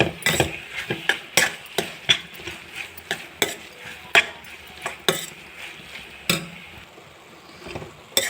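Paneer masala stirred in a pan with a metal spoon: repeated scraping clinks and taps in a loose rhythm, close and crisp, with no talking.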